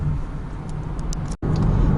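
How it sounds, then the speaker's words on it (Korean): Steady broadband tyre rumble and road roar inside a Hyundai Ioniq Electric while driving, constant and fairly loud with a brief dropout near the end, no talk heard. "타이어 마찰음이 약간 크게 올라오는 것 같기는 한데요"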